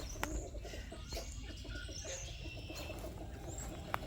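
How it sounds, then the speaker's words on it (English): Wild turkeys calling faintly at a distance outdoors, with soft repeated clucks and coos over quiet background ambience. "The turkeys are up here talking to us."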